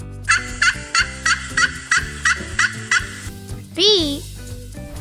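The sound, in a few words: turkey gobbling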